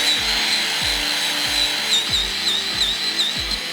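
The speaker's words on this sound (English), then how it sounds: "I'm going to use this wire wheel and just clean up these bores a little bit." A spinning wire wheel scrubs rust from the differential bushing bores on a Lexus IS300, a loud, steady, harsh abrasive whine with rhythmic pulsing scraping, close up and with no talk.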